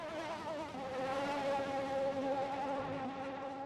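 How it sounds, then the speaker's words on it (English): AlphaTauri Formula 1 car engine in a racing video game at the Hungarian Grand Prix, a high, thin, wavering buzz like angry insects, steady and loud throughout with pitch bending slightly up and down. "The AlphaTauri sounds like 3 angry bees."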